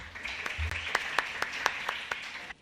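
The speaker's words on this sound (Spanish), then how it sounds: "Por favor, un aplauso para ella." Audience at a talk on animal rights gives a short round of applause: crisp, fairly regular claps from a modest crowd that fade out after a couple of seconds.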